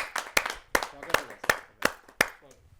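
An audience at a Hindi poetry gathering claps in a short burst, a few separate sharp claps spaced roughly every half second and fading out, fairly faint.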